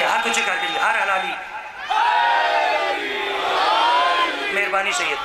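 A gathered crowd at a Muharram religious gathering shouts a slogan back in loud, ringing unison, several rising and falling chant phrases with a brief dip in between, voices layered close together.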